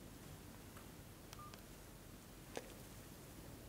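A Datacet D7001 telephone dials a number with a couple of short, faint DTMF tone beeps over a quiet, hissy background.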